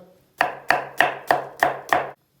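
A knife chops onions on a board in six evenly spaced, sharp thuds, close and crisp with short silences between each cut and no voices.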